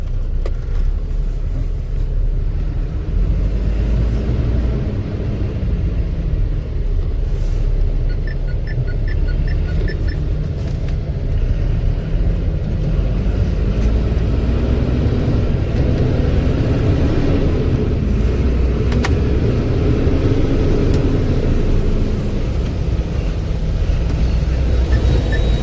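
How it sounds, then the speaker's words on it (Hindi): A truck heading out along a service road toward National Highway 44 gives a steady, loud engine rumble and road roar, with a few gentle rises and falls in engine pitch as it drives. "अभी हम निकल चुके हैं अपने ट्रक को लेकर"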